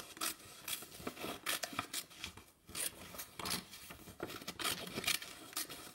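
Scissors snip paper in quick, irregular bursts of crisp cuts at a classroom craft table, close and fairly quiet, with short pauses between runs of cutting.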